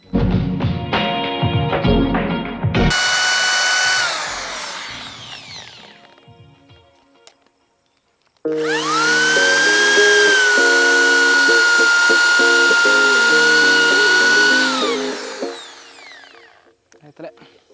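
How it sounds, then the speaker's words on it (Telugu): An electric screwdriver bores into a green coconut, two long, loud, high motor whines, the first trailing off and the second steady for several seconds, preceded by brief talking and clatter. "screw driver"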